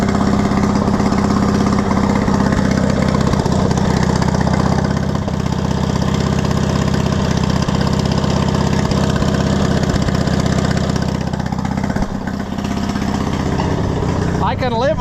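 A Cushman Truckster's small engine idles steadily with its choke pulled partway out, a loud continuous chugging drone that runs throughout while someone talks over it.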